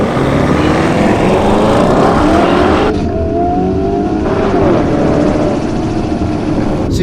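A 2021 Lamborghini Urus SUV revs hard in track mode, its engine roaring loud and close in a sustained rising and falling drone, with a brief dip in pitch partway through before climbing again.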